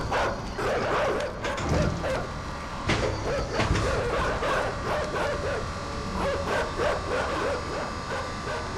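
Dog barking in the video game Inside, a run of yips and barks over continuous game ambience and rumbling background, moderately loud throughout.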